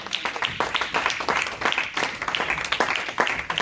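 Church congregation applauding during worship, dense rapid clapping from many hands with a steady rhythm filling the room, and some voices mixed in.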